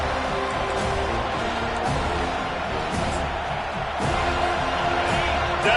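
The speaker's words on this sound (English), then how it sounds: "Decibels rising as the crowd gets behind this defense on third down." Football stadium crowd at an FSU game rising in volume as the defense lines up on third down, a dense, steady roar of many voices with a swell toward the end, under a broadcast commentator's voice.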